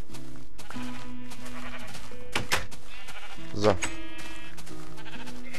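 Sheep bleating in the Minecraft video game, a couple of distinct bleats heard up close over steady game music while someone talks in German.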